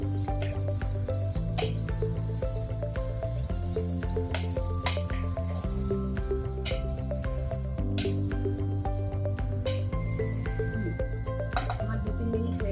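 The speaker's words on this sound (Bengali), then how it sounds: "আমি এটা 2-3 মিনিট ফ্রাই করব।" Ingredients for Kashmiri pulao, including milk, fry in a pan with a soft continuous sizzle, occasional clinks and stirring, over steady background music.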